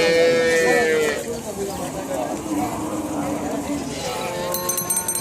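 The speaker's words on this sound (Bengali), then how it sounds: "গাই গরু দেখছেন" A cow moos in a long, loud call at a cattle market near the India–Bangladesh border, a market for dairy cows including the Mandi breed. Market bustle and people talking continue after the moo, and a few metallic clinks come at the end.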